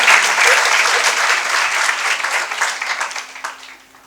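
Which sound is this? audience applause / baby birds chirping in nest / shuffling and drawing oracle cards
audience applause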